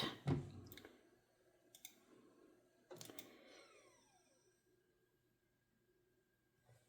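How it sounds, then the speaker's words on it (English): An inkjet-style home printer runs through a page, giving sharp mechanical clicks and short whirring feeds with quiet gaps between, close by and moderately soft. "just telling my printer to print."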